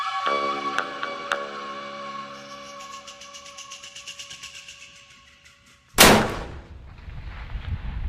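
A self-aiming rifle fired at a long-range target: one sudden, loud shot near the end with a ringing decay, after a stretch of quiet tonal hum.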